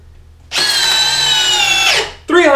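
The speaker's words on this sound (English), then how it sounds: "We want to see if it has enough power to drill these screws in." Makita sub compact brushless drill on a low torque, high RPM setting driving screws into hickory: a loud, steady high-pitched whine held for about a second and a half, then winding down as the screw seats, followed by a brief second burst.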